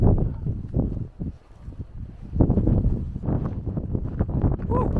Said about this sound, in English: As you can see, the wind is quite strong.